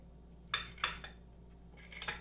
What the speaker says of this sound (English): We cut our sandwich.